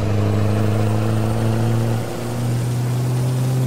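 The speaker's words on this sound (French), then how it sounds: "on va faire ronfler un petit coup le V8." A deep, steady V8 truck engine rumble in Euro Truck Simulator 2 on Paris streets holds a low droning tone, dipping briefly midway before swelling back, loud and close with no talking.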